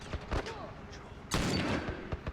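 Gunfire in The Last of Us, a few quick shots followed by a denser burst of firing, mid-distance, with a voice talking around it.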